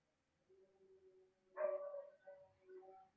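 A dog gives a short, moderately loud bark followed by whining yips and vocal whimpers, heard fairly close in a quiet room with no talking.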